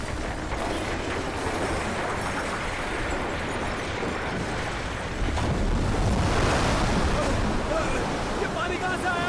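A tsunami's water and waves rush in during a movie scene, a loud continuous roar of churning water that swells louder partway through.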